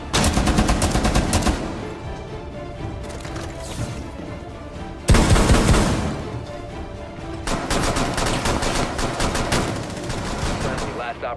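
Tachanka's mounted LMG in Rainbow Six Siege fires in long, rapid bursts of close, loud gunfire, broken by brief pauses and a heavy thud midway, continuing to the end.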